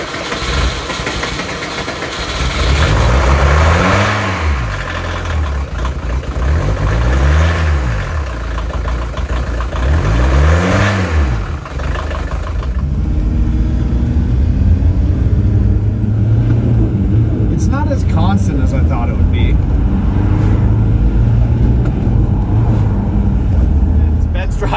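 A smoky old VW Doka pickup truck rumbles nearby, its engine revving in three rising and falling surges before settling into a steady running drone, with people talking intermittently.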